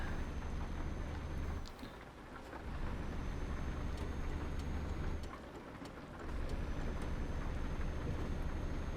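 Steady rain falls in Euro Truck Simulator 2, a constant hiss over a low truck engine rumble, briefly dipping twice as the engine drone cuts out.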